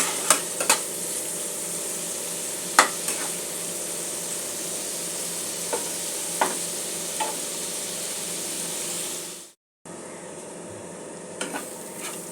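Spice paste with chili powder sautéing in a pan for a tilapia curry, a steady close sizzle broken by scattered clinks and scrapes of a spoon stirring, with one brief dropout near the end.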